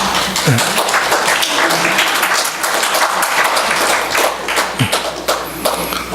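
Audience applause for women members at a talk or gathering, a dense steady wash of many hands clapping that runs the whole stretch, loud and close, with a few sharper taps and thuds standing out.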